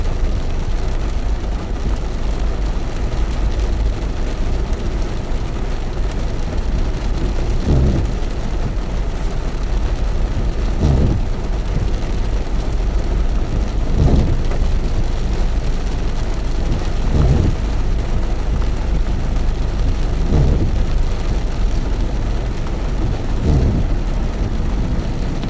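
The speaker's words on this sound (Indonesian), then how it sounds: "sudah mulai mengecil hujannya teman-teman" Heavy rain easing off on a highway near the Bekasi Timur toll exit, a steady loud wash of rain and road noise with several soft low rumbles recurring every few seconds, no voices.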